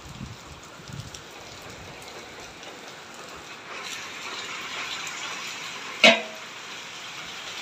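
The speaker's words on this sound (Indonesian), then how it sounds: "Aduh, hujan, teman-teman ya." Rain falls on an outdoor vegetable market as a steady hiss that grows heavier partway through, with a single sharp knock near the end.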